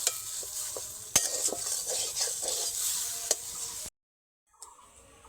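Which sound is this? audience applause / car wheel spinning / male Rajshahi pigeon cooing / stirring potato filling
stirring potato filling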